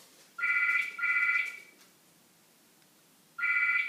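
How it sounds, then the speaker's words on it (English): A mobile phone ringtone goes off indoors, two short bursts of bright repeating electronic tones, a pause, then a third burst starting up, fairly loud and with no talking over it. "I should have turned the phone off."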